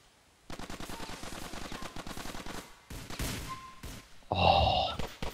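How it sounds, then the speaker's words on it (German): Automatic gunfire in a GTA IV multiplayer match, rapid bursts of machine-gun fire rattling on for several seconds, a brief gap, then a louder, denser final burst. "wo schießen die Leute eigentlich?"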